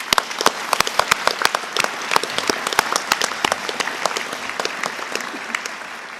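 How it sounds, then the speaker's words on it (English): A graduating police academy class at Skagit Valley College's PLEA ceremony is applauded by the audience, with sparse, distinct individual claps spread across the room rather than a dense roar, holding at a steady moderate level throughout. "they all deserve a round of applause for their effort"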